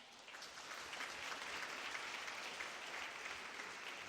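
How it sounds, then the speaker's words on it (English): Audience at an alumni gathering applauding a 20-year-old businesswoman, a steady, fairly faint wash of many hands clapping continuously without talk. "A lot of applause for that."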